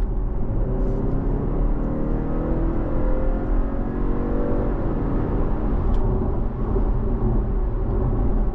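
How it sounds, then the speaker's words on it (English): BMW G31 530e xDrive four-cylinder engine pulling under hard acceleration, a loud continuous grunting drone with rising tone and tyre and road rumble, heard from inside the car with no talking. "when you do plant your foot and the engine kicks in, this is obviously a four-cylinder engine, so you are going to get quite a bit off, like a four-pot grunt"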